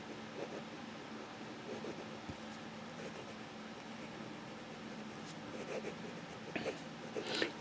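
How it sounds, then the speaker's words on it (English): Fountain pen nib of an Asvine V169 skeleton pen drawn in reverse across paper, a faint, soft scratching that runs on at low level, with slightly stronger strokes near the end. "Reverse writing."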